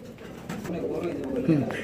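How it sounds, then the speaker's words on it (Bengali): Low, soft cooing of Danish pigeons rumbles beneath nearby talking, with a few brief bird calls mixed in. "2 পেয়ার ড্যানিশ কবুতর রয়েছে এখানে"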